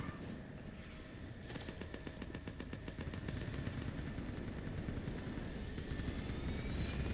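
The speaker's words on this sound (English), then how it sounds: "Get that gunship moving!" A gunship in the Mass Effect 3 game roars overhead with a low engine rumble while rapid, steady bursts of automatic gunfire rattle under it for several seconds, moderately loud and without speech.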